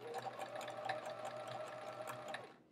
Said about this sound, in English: and then we sew these together.